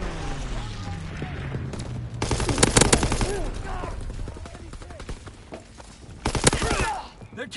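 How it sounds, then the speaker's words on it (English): Strafing-run gunfire from aircraft in a PS4 war game: two loud bursts of rapid automatic fire, the second near the end, over steady battle noise with some crackling in between. "Strafing run inbound."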